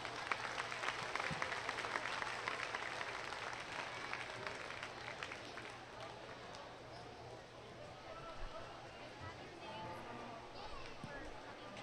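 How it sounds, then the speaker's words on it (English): Audience applause at a junior livestock market goat show, clapping strongest at first and then fading into a murmuring crowd, with people talking and some livestock shuffling in an arena. "Let's give them a big round of applause."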